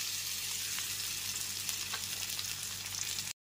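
Ginger and green chili paste sizzling in a pan of melted sugar over a low flame, a constant close hiss and crackle of frying, with faint stirring ticks and no talk, cutting off abruptly at the end.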